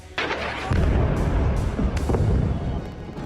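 A multi-storey building in southern Beirut is destroyed by a bombing strike, booming with a sudden loud blast, followed by rolling rumble and debris-like crackle, heard from a distance.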